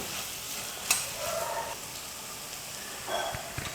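Raw mango thokku sizzles in hot oil over a medium flame, a steady close frying hiss with brief crackles and the occasional spoon scrape, no voices.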